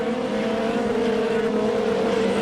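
Formula 3000 race cars racing at a circuit in Brazil, a loud, continuous high-pitched engine drone held steady throughout, with a faint commentary voice underneath.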